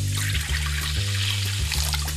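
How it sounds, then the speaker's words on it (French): Boiling water from cooking eggs being poured into a kitchen sink, a steady loud splashing gush that runs continuously for a couple of seconds. "il faut verser l'eau bouillante dans l'évier."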